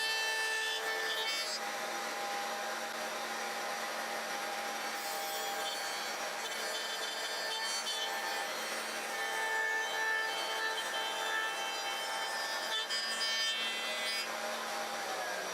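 A router bit plunging and cutting a slot through wood in successive passes for a table saw jig, a close, sustained whining grind with steady tonal hum that shifts pitch slightly between cuts, no talking.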